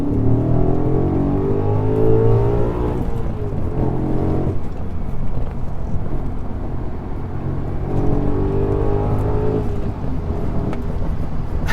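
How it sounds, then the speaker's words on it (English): A 2007 Audi RS4 with over 140,000 miles, its engine revved hard in repeated rising and falling sweeps, loud and close with no talking. "Let's see how it revs."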